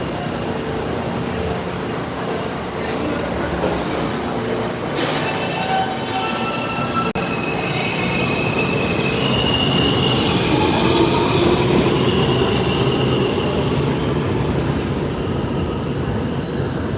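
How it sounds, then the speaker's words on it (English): New York City subway train at Court Square station, rumbling loudly along the rails with squealing wheels and clattering cars, a continuous close roar that builds slightly, no voices. "Yes, that's the train I need to be on."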